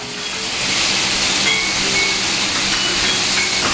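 Karaage chicken pieces deep frying fully submerged in a large amount of hot oil, a steady loud sizzling hiss that swells slightly and then holds without break.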